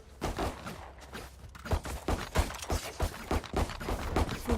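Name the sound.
weapon reloading in a video game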